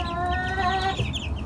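Chickens cluck up close, with a loud sustained tonal call followed by lower clucks, heard alone and without talk.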